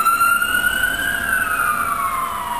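A loud emergency siren wails steadily, its pitch sliding slowly as the vehicle passes close by, over a low rumble of highway traffic.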